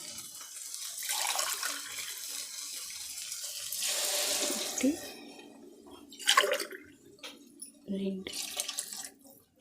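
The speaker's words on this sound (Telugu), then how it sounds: "ఇప్పుడు నీళ్ళు పోసుకుంటాం" Water is poured from a glass into a pot of rice for a black-eyed pea biryani, two glasses for one of rice. It comes in a few short splashing bursts, with a voice talking in between.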